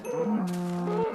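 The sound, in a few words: cows mooing in the video game Minecraft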